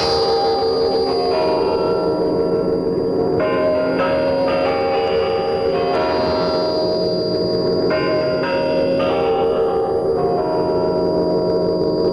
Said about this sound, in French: Le carillon du Kremlin de Moscou sonne minuit